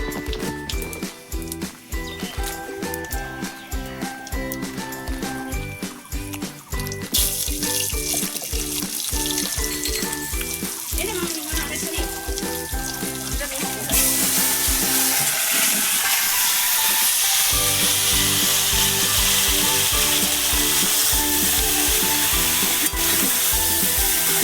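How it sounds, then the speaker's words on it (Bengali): Mango pieces dropped into hot oil with dried red chilli and panch phoron for a Bengali sweet-sour mango pickle, giving a loud steady sizzle with stirring clatter that swells louder and brighter partway through, no voices. "এই যে আমার তেল গরম হয়ে গেছে, এবার আমি আমটা দিয়ে দেবো।"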